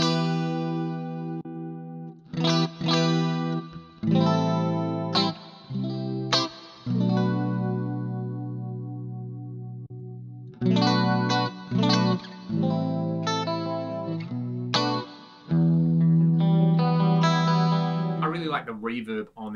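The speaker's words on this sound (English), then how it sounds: "Reverb on there. The chorus has a low pass filter on it." Electric guitar played through a Roland GP-100 digital modeler with chorus and reverb, bright strummed chords and single notes in phrases with pauses between them, the tone shimmering and swirling with lingering tails.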